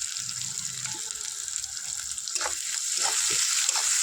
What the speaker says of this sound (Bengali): নুনটা দিয়ে দিলে পেঁয়াজটা তাড়াতাড়ি ভাজাটা হয়ে যায়, নুনটা আগে দিয়ে দিলাম।